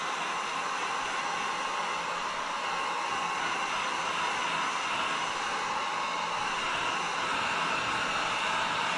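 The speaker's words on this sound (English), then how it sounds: "I'm going to pull out the heat gun" Heat gun blowing hot air onto chrome vinyl wrap, a steady hissing whoosh like a hair dryer, constant and close for the whole stretch with no talking.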